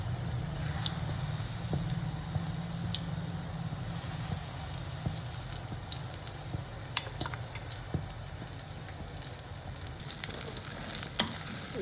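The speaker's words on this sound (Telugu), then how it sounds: "ఇలా ఆయిల్లో ఫ్రై చేసుకోవాలండి" Battered tomato bajji deep-frying in hot oil, a steady close sizzle and bubbling crackle with scattered sharp pops throughout, no voices.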